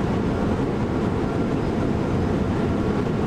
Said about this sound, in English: I just love the acceleration of this train